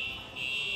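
A fire alarm going off indoors, a steady shrill electronic tone held through the whole short moment, fairly quiet and alone without talk.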